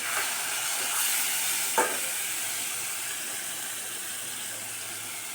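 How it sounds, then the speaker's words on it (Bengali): Black gram dal frying in a pan, with steamed taro about to go in: a quiet, steady sizzle and hiss, with a brief scrape of stirring early on, then a gentle, even fry. "মাসকলাইয়ের ডাল ভাজা হয়ে গেলে ভাপ দিয়ে রাখা কচু এগুলো দিয়ে দেওয়া হবে।"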